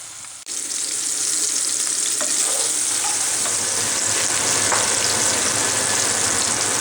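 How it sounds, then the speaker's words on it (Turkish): Sucuk sausage and peppers fry in a pan with a loud, dense hiss that starts abruptly and holds steady, close and with no talk over it. "sucukla biberlerimizi kavuruyoruz öncelikle"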